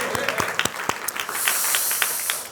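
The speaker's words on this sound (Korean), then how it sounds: "하나님께 영광의 박수 올려드립니다" A church congregation applauds in worship: scattered, distinct close claps at first build into a denser, hissing wash of applause that fades at the end.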